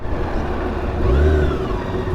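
A small six-cylinder motorcycle loaded with luggage drones steadily, then swells into a brief rev as it pulls before settling back, under constant road and wind rumble.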